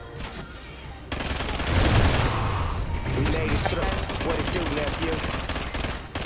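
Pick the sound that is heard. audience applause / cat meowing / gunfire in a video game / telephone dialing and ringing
gunfire in a video game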